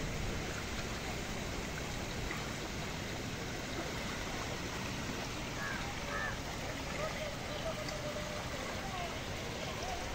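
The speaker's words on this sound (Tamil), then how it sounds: "இந்த மதகால சரியான பாய்ச்சலாக இருக்குது தண்ணி" Floodwater from Cyclone Fengal rushes through a sluice in Achchuveli: a steady, dense roar of flowing water, moderately distant and even in level throughout.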